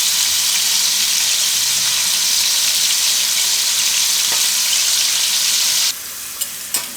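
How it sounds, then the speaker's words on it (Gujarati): Paneer pieces pan-fry in a steady, bright sizzle that holds for about six seconds, then quickly drops to a quieter hiss with a couple of soft clicks. "અને આપણે 2 બાજુ ફેરવીને શેકી લેવાનું."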